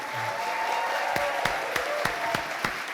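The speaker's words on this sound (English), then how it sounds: "A huge applause." An audience applauding after introductions at an astronaut panel event, steady dense clapping with a few sharp louder claps standing out, fairly close and continuous throughout.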